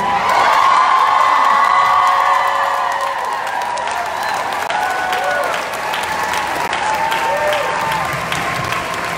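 A crowd at a Boston street protest against Brett Kavanaugh's Supreme Court nomination claps and cheers loudly and continuously, with whoops and shouts rising from the mass of applause.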